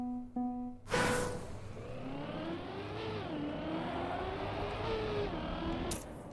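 A car in the racing game Trackmania creeps along at low speed, its engine holding a steady, rising and falling tone for several seconds after a brief start.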